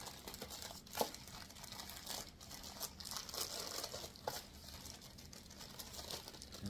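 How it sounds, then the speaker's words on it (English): Plastic bag of parts for a wooden kids' table and chair set is opened by hand. It produces faint, close crinkling and rustling with a few sharper crackles spread through the stretch. "we are going to open a bag of parts"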